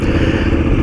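A KTM 990 motorcycle engine, just reinstalled, runs loud and close with a rough, steady clattering roar over a brief moment.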